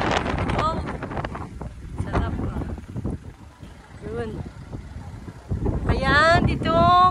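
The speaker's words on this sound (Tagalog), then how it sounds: "Ay, lakas ang hangin po dito." Strong wind buffets the microphone with a steady rumbling roar at a hilltop park in Tagaytay while a person talks over it throughout.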